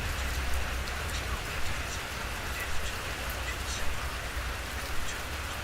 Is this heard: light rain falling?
yes